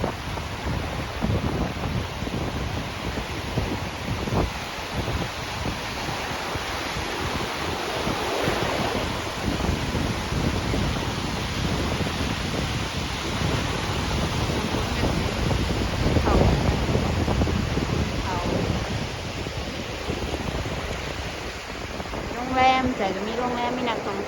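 Steady roar of surf and waves at Khao Takiab beach, Hua Hin, with gusty wind buffeting the microphone throughout, broad and continuous with occasional louder swells.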